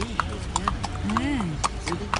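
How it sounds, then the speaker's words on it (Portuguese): Hooves of a horse pulling a load clip-clop in an irregular rhythm on a hard surface, close by, while people talk over them. "um cavalo tá puxando, olha só"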